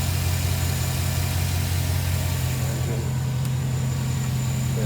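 A 2008 Chevrolet Silverado with the 4.8 engine idles steadily after new spark plugs, giving a deep, even low rumble with a constant hum and no ticking, heard close throughout.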